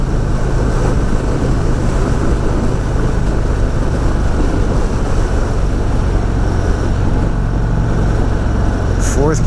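An Indian Springfield Darkhorse motorcycle accelerating on the road, a steady, loud engine drone mixed with wind rush that holds for the whole stretch, ending in a brief high sound.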